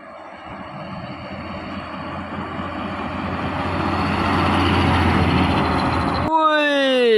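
A Hino truck and a Mercedes truck pass on a road, their heavy diesel engines rumbling louder as they approach, ending in a sharp rising whine or horn-like tone close by.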